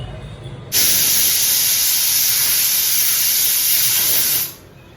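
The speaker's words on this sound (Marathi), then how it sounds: "आता आपण याच्या चार पाच सिट्ट्या होऊ देऊया" A pressure cooker whistle blasts out steam while dalia khichdi cooks, as a loud, sharp hiss that starts abruptly, holds steady for about four seconds, then cuts off.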